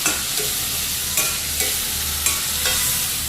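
Half-cooked potatoes being stirred in hot oil for a potato curry, with a continuous loud sizzle and a few regular scraping strokes of a spoon against the pan, close up and without talk.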